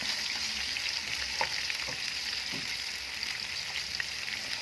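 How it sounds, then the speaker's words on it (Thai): Pork sizzles and crackles in a hot pan with golden garlic as it is stir-fried, a continuous close frying hiss with occasional soft scraping, no voices. "เราก็ใส่หมูลงไป ใส่หมูลงไปผัด"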